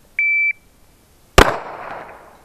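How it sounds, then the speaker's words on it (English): A shot timer gives one short electronic beep, followed about a second later by a single sharp, loud pistol shot that rings out and decays, close and alone. "On the buzzer, punch out and fire one round."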